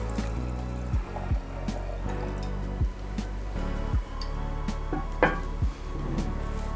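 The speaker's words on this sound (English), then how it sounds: "I had to decant it." Red wine pours into a glass decanter, a continuous liquid gurgle with several soft glugs and splashes at irregular intervals, close and moderately loud.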